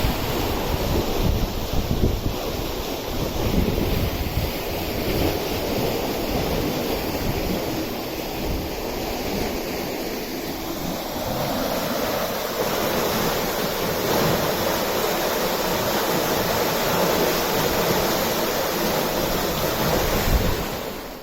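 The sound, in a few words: wind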